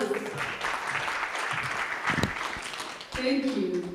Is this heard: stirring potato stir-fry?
no